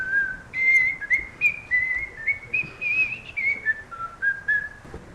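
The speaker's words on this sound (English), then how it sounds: "Bill, do you hear that? That whistling noise?" A person whistles a wandering tune alone, clear and fairly close, in short phrases with brief pauses between notes.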